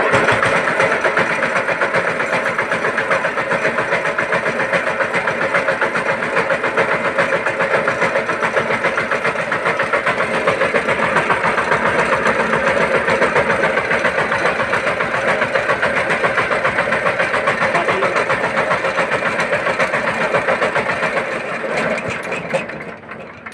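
An engine in a repair shop, with its crank bearing changed while still fitted, runs at a steady, loud, even idle for over twenty seconds before tapering off near the end.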